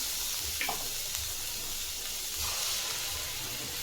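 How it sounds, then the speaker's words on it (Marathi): Vegetable curry for a village-style rice rassa bhaji sautéing over low heat, giving a steady, fairly quiet broadband sizzle with faint stirring clicks, heard alone without talk. "ही भाजी कमी गॅसवर 2 मिनिटं परतून घ्यायची आहे"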